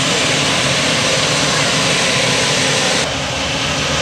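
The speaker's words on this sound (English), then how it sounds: "You can hear them spool it up just a little bit at a time. You cannot rush a turbine." Turbine engine on a pulling tractor at a truck and tractor pull spools up in a loud, steady roar that fills the air, easing slightly near the end, with voices faintly beneath.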